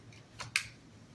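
A part of a Shark Stratus vacuum cleaner is pushed into its base and gives one sharp, close plastic click, preceded by a softer rustle in an otherwise quiet room.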